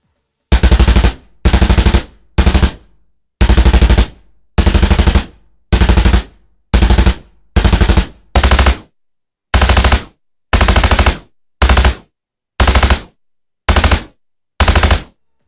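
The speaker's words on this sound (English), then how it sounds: "The following two are lightweight, rapid-firing carbines" Rapid-firing lightweight carbine gunshot effects: about fourteen separate loud bursts of fast automatic fire, each roughly half a second long and split by short silences, very close and alone.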